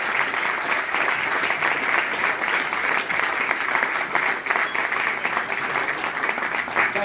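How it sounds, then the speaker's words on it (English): A hearty round of audience applause at a 75th anniversary gathering of the Boys' Brigade, thick and continuous at an even level throughout, with no talk over it. "Please give them a deserving hearty, rousing round of applause for what they've done."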